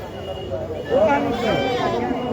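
A goat bleats once or twice at a busy cattle and goat market in Noakhali, rising clearly over the murmur of crowd chatter nearby.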